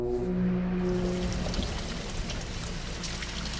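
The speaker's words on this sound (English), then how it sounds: "Rain?" Rain falling steadily in the Zork Nemesis puzzle game, a soft hissing patter that follows a brief low tone at the start.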